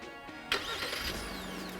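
A 2021 Genesis GV80 engine starts remotely from the key fob, a sharp starter crank followed by the engine catching and settling into a steady idle hum, fairly close and moderately loud.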